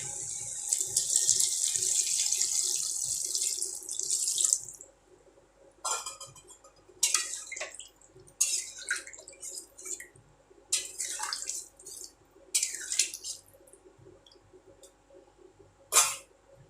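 Water poured steadily for a few seconds into a pot of potato and pointed gourd curry, followed by scattered clinks and scrapes of stirring against the metal pot.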